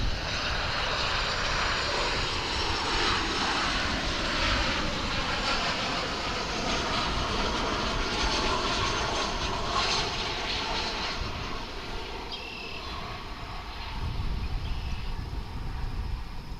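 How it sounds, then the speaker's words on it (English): An American Airlines jet airliner, arriving at Dallas/Fort Worth International Airport from Austin, makes a steady, loud broadband engine roar that holds through the whole stretch with no voices. "We finally got some action coming in here. It's American Airlines Flight 1595"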